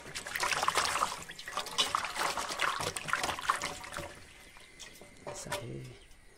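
Fresh organic vegetables are rinsed in water in an Arunachal village home, with splashing and trickling that stay fairly close and lively before easing off toward the end.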